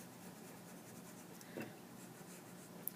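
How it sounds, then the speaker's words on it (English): A pencil is pressed hard and traced over the back of a sheet of paper, giving a faint, continuous scratchy scraping close by with no talk. "to trace pressing hard on the back side without moving your paper"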